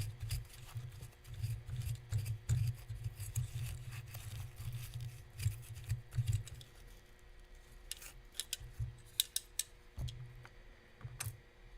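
Battery corrosion being scrubbed from a compartment during an electronics repair: rapid, irregular brushing and scraping strokes with clicky, ticking contacts, fairly close and moderately quiet, with a steady low hum underneath.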